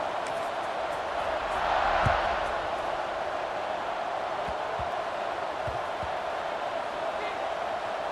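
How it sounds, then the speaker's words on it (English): A football stadium crowd buzzes after a score, a broad continuous roar that swells briefly, with a commentator talking over it. "this crowd is buzzing after that last score"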